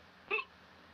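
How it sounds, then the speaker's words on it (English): A single short hiccup from a man sitting over champagne, one brief voiced catch standing out clearly against a quiet room. "I have the hiccups."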